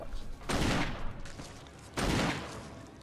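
Two loud, close gunshot bursts ring out in the survival-horror video game Resident Evil HD Remaster, spaced about a second and a half apart, each trailing off in a short echoing decay.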